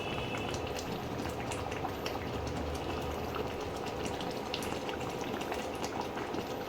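Coconut pomfret curry boils hard in the pan after a little raw oil is sprinkled over the top, giving a dense, continuous bubbling and popping that stays steady and close throughout, with no talking.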